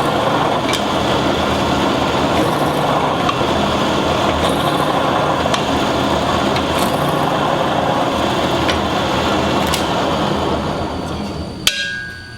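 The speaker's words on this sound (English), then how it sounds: "Drill it right in until it hits the table." A drill bores into knife handle material at a knife-making shop, a steady, loud grinding whir that runs unbroken for about eleven seconds before a sharp clack near the end.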